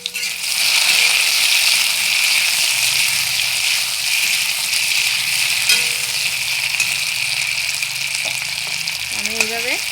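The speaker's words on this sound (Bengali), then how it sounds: "আলুগুলো ভাজবো" Potatoes sizzle steadily in hot oil in a pan, a loud continuous hiss that runs throughout, with a few faint clinks of stirring near the end.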